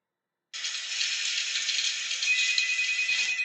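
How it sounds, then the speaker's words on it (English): Office background noise plays at maximum volume from a cell phone speaker, starting abruptly after a short silence and continuing as a thin, bright, steady hiss with no low end and no voices. "I am playing the office noise off of my cell phone at maximum volume"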